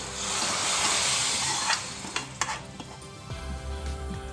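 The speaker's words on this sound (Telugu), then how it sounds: "సేమియా వేసాక బాగా కలుపుకోవాలి, లేదంటే ఉండలు కడుతుంది" Vermicelli goes into boiling milk for payasam, a dense hissing boil that eases as a spoon stirs and knocks against the pot, ending in a lower bubbling rumble, close and unvoiced.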